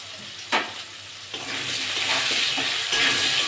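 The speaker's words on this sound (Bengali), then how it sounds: "ভালো করে ভেজে নেব আলুগুলো" Potatoes frying in oil with turmeric and salt for a rohu fish curry, a steady close sizzle with a sharp utensil scrape early and a few softer stirring knocks, no talking.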